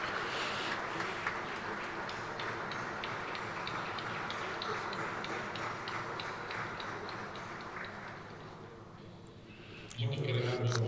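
Large audience at a shareholders' general meeting in Maputo, Mozambique, giving a long, steady round of applause that fills the hall, fading near the end as a voice begins over it.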